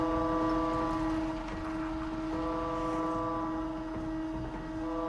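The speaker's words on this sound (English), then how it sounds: "The train is now in station." A train moving through a station in the video game Control, a steady rumble with sustained tonal hums running throughout, heard alone and fairly loud without talk.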